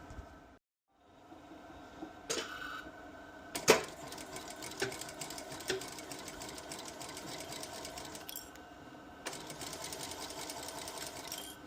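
A sewing machine stitches the side seams of a bucket hat in steady, moderately loud runs, briefly stopping and restarting, with faint clicks of handling between.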